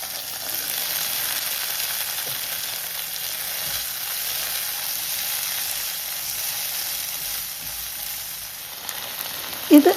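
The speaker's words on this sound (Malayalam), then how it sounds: "ടൊമാറ്റോയും സവോളയും തേങ്ങയും മല്ലിയിലയും എല്ലാം കൂടി ഒന്ന് വഴറ്റണം" Tomato, onion, coconut and coriander leaves sauté in a hot pan, giving a steady, close sizzle and frying hiss throughout with light stirring, ending with a couple of sharper knocks.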